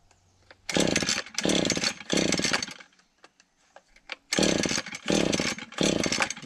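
A chainsaw used for cutting firewood sputters through repeated bursts of roaring engine noise, three surges, a pause with small clatters, then three more, as it fails to keep running; loud and close, no talking.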